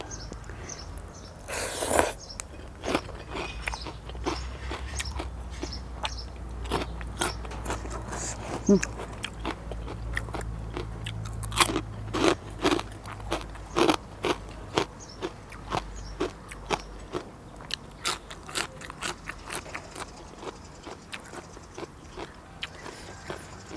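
Crunchy bites and chewing on crispy Thai pork belly eaten with spicy papaya salad, a string of sharp close crackles and chews spread across the whole stretch with a low background hum.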